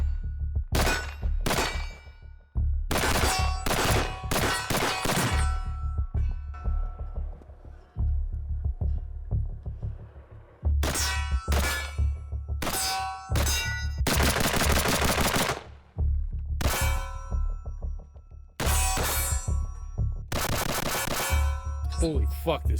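A SOCOM 16 semi-automatic rifle chambered in .308 with a 16-inch barrel fires a series of loud, sharp shots outdoors, some in quick clusters with short pauses between, and faint talk in the gaps.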